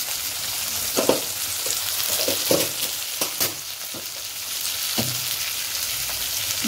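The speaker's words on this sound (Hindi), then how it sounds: "सब डालेगा चम्मच में चला देंगे" Ground coriander and turmeric fry in hot oil for a Chhattisgarhi leafy greens dish, giving a continuous close sizzle broken by spoon scrapes and clinks against the pan.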